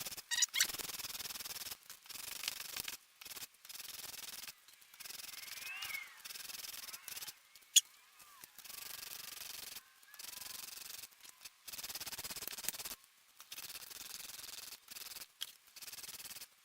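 A wooden strip's edge is sanded by hand, with repeated short rubbing strokes in an uneven rhythm, fairly quiet and close, with brief pauses between passes.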